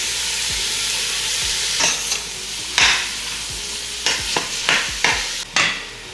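Onions tumble into browning meat in a pot for homemade chili, raising a steady hiss with repeated sharp scraping clatters of a utensil against the pot as it is stirred.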